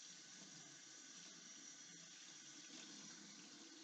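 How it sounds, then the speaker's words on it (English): Hands rinse under a running faucet during hand washing, a steady, close rush of water that stays even from start to finish with no voices. "I'm going to rinse my hands with my fingers pointing downwards so that any contamination runs off of them."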